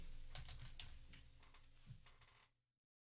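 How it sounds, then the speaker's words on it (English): Quick bursts of typing on a computer keyboard, close and soft, with irregular clicking keystrokes for a couple of seconds before falling quiet. "I'm going to type in Minecraft here."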